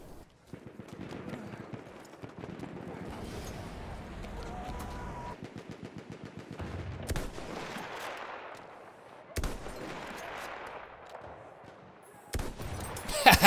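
Pistol gunfire in the Battlefield 1 video game: a run of sharp, separate shots over busy game noise, with several louder cracks toward the end.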